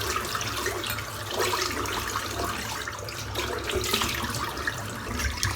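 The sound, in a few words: water running while wetting face at sink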